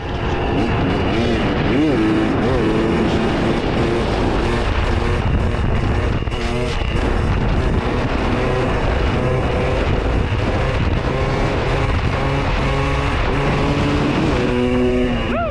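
Husqvarna TX300 TBI two-stroke dirt bike engine running hard, loud and steady with pitch rising and falling through continuous revving, accompanied by heavy wind buffeting on the microphone and no talk.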